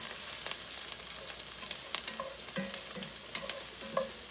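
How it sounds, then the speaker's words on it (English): Spaghetti meat sauce with onion being stirred in a pan, producing a soft, steady sizzle broken by light spatula scrapes and taps, fairly quiet and close. "Stir that around a little bit."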